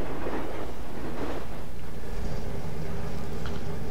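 In the train simulator game Railworks 2, a rail car's coupler slack takes up, rumbling and clanking with a low metallic jolt and rattling under a steady, noisy roar.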